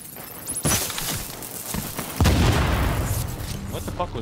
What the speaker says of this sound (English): Was that a nade?